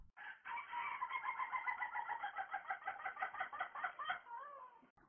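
A rooster crows once in a long, loud cock-a-doodle-doo with a pulsing, wavering tone, close and alone, fading out at the end.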